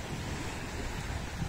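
Sea surf washing onto the shore in October, a steady broad rush with wind noise buffeting the microphone and no voices.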